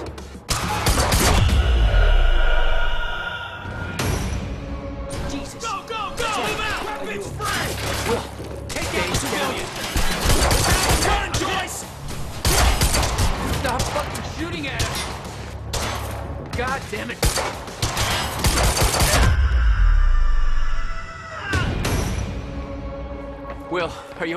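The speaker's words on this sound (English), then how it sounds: "Target's armed. Opening fire! We're pinned down!" Enemy gunmen open fire in the video game Quantum Break, a loud sustained barrage of gunshots and bursts over several seconds, with characters talking between and over the shooting.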